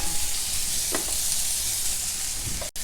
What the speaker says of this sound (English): Now heat about 2 tablespoons oil in a pan. First we will add in these sliced onions to it. Fry the onions.